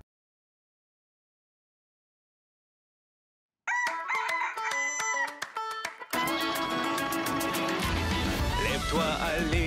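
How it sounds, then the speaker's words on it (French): After a few seconds of silence, a rooster crows close by, then a busier burst of music-like sound and talking follows. "le coq vient de chanter"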